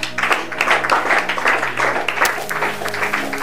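A church congregation claps together in a steady, moderately loud burst of applause that lasts a few seconds, with no talking over it.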